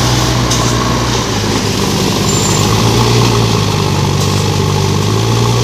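A JCB loader from a 2012 model year, about ten years old, runs loud and close with a steady diesel drone and a constant low rumble that never lets up, and no voices are heard.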